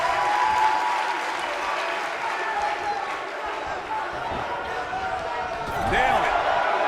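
Arena crowd cheering and applauding in the wrestling video game WWE 2K19, a steady loud roar with a brief swell of impacts near the end.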